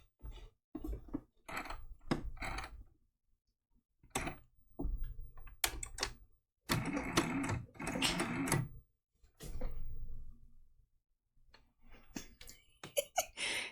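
A home sewing machine stitching raw edge applique, running in short bursts of fast, even whirring separated by quiet pauses and small handling clicks.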